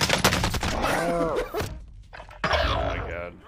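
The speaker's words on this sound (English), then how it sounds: "They're still shooting over there." Gunfire from a shooter video game, rapid bursts of shots crackling loudly through the first second and a half, then a pause and further impacts and shots resuming, with game sounds layered throughout.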